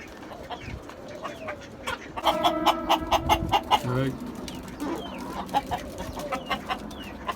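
Chickens on a rooftop garden cluck and squawk close by in short repeated bursts, busiest in the middle, with a person talking faintly underneath.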